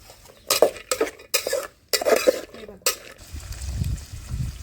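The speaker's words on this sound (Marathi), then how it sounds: "वाटाणे टाकले याच्यामध्ये तरी बीन्स पण टाकून घेते सगळ्या भाज्या आता" Peas, beans and vegetables tipped into a pot over a wood-fired stove while making masala rice, a few rattling clatters and knocks of vessels, then a softer rustle and clink as they settle.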